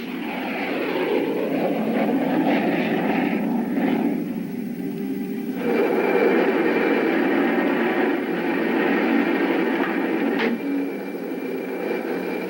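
An aircraft lifts off with a loud, steady engine roar and rumble that shifts in tone partway through, close and continuous with no voices.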